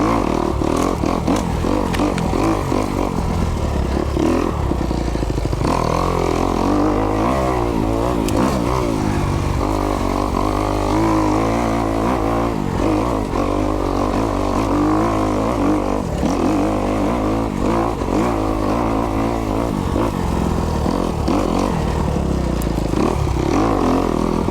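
A Kawasaki KX250X dirt bike is ridden on single track, its engine droning and revving continuously at close range with rough clatter and fluctuating pitch throughout.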